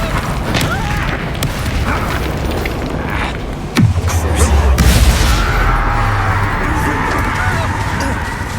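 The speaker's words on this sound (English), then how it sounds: "Explosion!" A spell blast in the Hogwarts Legacy video game bursts midway as a single loud, deep boom. The low rumble lingers and fades over busy game ambience.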